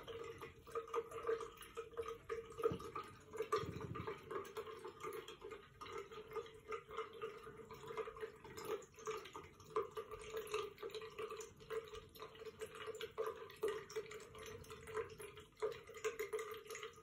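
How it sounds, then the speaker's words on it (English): A thin trickle of water running from a tap for a cat, a faint, steady dripping and splashing that continues evenly throughout without talk. "Maybe I turn it down a bit, eh? Only a little trickle."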